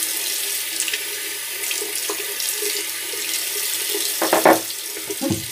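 A tap runs steadily into a sink as something is rinsed out, a continuous close hiss of water with a few brief clattering splashes near the end.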